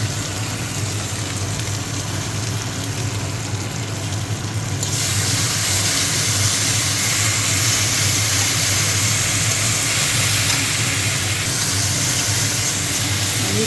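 Chili frying in hot oil for a fish curry gives a continuous dense hissing sizzle that grows slightly louder partway through and stays steady, no talk.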